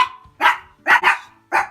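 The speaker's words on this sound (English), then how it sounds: "When you hear barking in the background, this is who it is." A small dog indoors barks four times in sharp, close, loud yaps, two coming in quick succession, with quiet gaps between.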